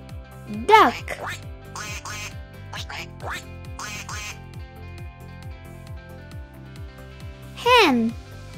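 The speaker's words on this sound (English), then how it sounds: "Duck." A duck quacks in a rapid series of nasal, raspy calls, loud and close, with a spoken voice briefly breaking in near the start and again near the end.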